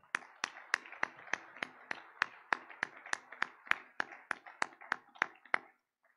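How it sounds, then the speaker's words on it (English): Slow, evenly spaced handclaps, about eighteen in six seconds, sound in a hall at a medical college graduation ceremony as the chief guest is honored with a bouquet, then stop abruptly. The claps are fairly close and distinct with no voices over them. "with a big round of applause"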